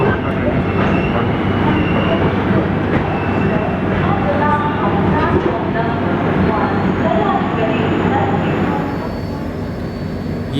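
The Belagavi–KSR Bengaluru superfast express rolls past with a broad, steady rumble and rattle that holds for about ten seconds before easing slightly at the end.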